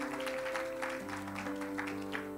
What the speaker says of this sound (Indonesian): Saudara harusnya kasih tepuk tangan buat Tuhan yang luar biasa.